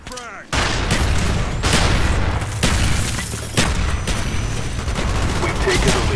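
A frag grenade explosion and rapid gunfire in a Call of Duty: Black Ops team deathmatch, with a sharp boom followed by dense, loud, continuous shooting and repeated heavy impacts throughout.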